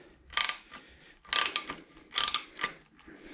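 A lock nut being tightened on a fairing mount of a Harley-Davidson Sportster during a Memphis Shades Road Warrior fairing install, heard as several close, quick ratcheting bursts in a row.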